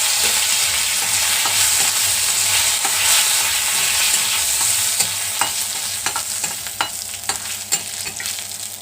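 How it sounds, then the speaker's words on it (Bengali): A dried chilli, black mustard seeds and curry leaves hiss loudly in hot oil as a tempering. The sizzle is steady at first, then breaks into crackling pops and stirring clicks as it eases off. "দিয়ে দিব এখানে রায় মানে কালা সর্ষে, আর দিয়ে দিচ্ছি কারি পাতা।"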